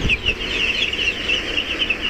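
Chickens cluck and chatter steadily in a poultry shed during very hot weather, a dense, continuous flock murmur with no voices over it.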